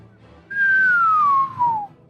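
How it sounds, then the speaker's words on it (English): A person whistles one long, clear note that slides gradually downward in pitch, loud and close, with faint background hum before and after. "that's the best whistle I can try to do"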